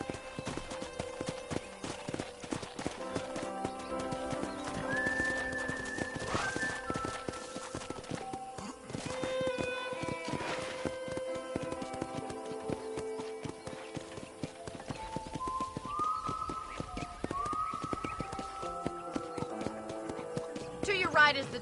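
Steady clip-clop of horse hooves walking in Red Dead Redemption, with occasional whinnies and background game music, while a voice talks over it throughout.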